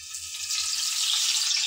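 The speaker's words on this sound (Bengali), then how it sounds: "তেল গরম হয়ে যাওয়ার পর আমি একটা একটা করে সব মাছ গরম তেলে ছেড়ে দিচ্ছি।" Pieces of rohu fish slide into hot oil and set off a bright sizzling hiss that quickly swells and holds steady, close by, for under two seconds.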